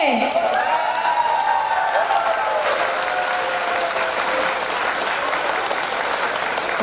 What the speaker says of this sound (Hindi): लेफ्ट साइड जोरदार ताली होना चाहिए